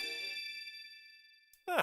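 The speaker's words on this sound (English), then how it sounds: "A new chime in the sound settings." A new chime unlocked in the sound settings of Theatrhythm Final Fantasy: Curtain Call rings out as a bright sustained tone that slowly fades, followed by a short clear ding at the end.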